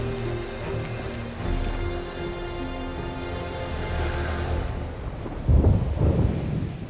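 Thunderstorm closing in over a cable crossing in Bolivia, with a low rolling rumble of thunder swelling near the end over a steady wash of wind and rain.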